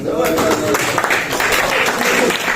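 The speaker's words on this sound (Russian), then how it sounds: "вам отдельные аплодисменты" A crowd at a mosque opening applauds a group of young men, the clapping steady and dense beneath someone talking over it.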